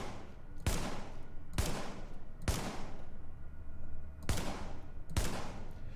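A T821 submachine gun fires in The Division, five sharp, loud bursts spaced about a second apart, each cracking hard and ringing out in a decaying tail over a low background hum.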